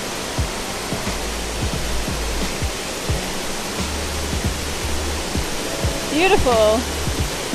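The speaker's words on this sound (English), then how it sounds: "it's actually the biggest waterfall we've seen for a fairly long time" Broad, steady roar of a large waterfall in Thailand pouring heavy volume, a continuous wash of falling water close by, with a brief spoken exclamation near the end.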